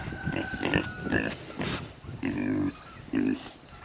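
Pigs grunting on a farm during breeding season, several close, loud grunts and snorts in uneven bursts, with a person calling out to them between the sounds.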